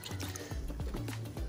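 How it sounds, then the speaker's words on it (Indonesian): Water trickles and drips into a pot of bare-root plants, soft gurgling splashes and small droplet sounds repeating irregularly at close range, quiet and without talk. "yang sekarang kita lakukan adalah penyiraman nih teman-teman."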